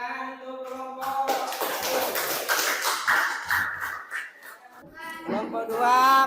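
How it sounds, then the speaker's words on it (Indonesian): Classroom group clapping hands during a lesson on charitable giving: a few seconds of brisk, dense clapping from nearby, with voices speaking before and after it. "Oke, tepuk tangan untuk kelompok."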